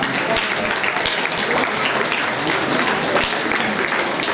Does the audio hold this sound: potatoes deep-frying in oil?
no